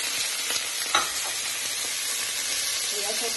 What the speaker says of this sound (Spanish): Voy a sofreír esto a fuego un poco más bajo, a dorarla.